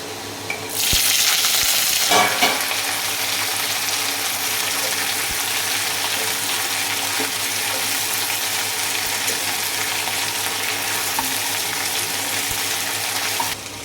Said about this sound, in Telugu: కరివేపాకు చిక్కుళ్ళు బాండీలో వేసేసుకున్నాం.